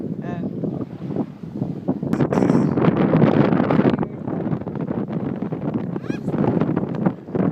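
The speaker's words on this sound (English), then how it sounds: "It's pretty windy out here." Strong wind buffets the microphone on a North Carolina beach, a loud, gusty roar that rises and falls throughout while people talk over it.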